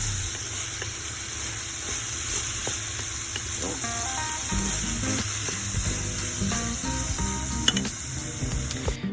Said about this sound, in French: on mélange bien partout pour que la cuisson soit bien homogène